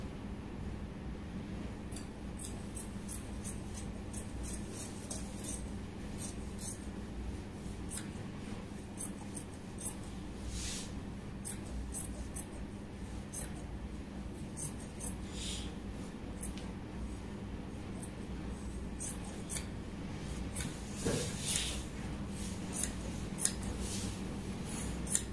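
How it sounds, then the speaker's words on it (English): Scissors snip through fabric along a kaftan gown's zipper line, with repeated close cuts and rustling over a steady low background. "So cut the zipper line open."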